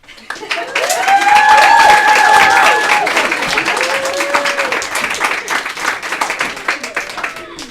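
Audience applause fills a room as a speaker is welcomed to the stage at a cannabis industry event in Oregon, with loud, dense clapping that swells over the first seconds and then thins out while a few voices carry above it.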